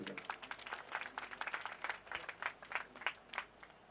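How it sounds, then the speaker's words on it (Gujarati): An audience at a Swaminarayan Mahila Mandir gathering in Chhapari village claps in a brisk, moderately distant burst of applause that continues throughout. "જોરદાર તાળીઓથી વધાવજો"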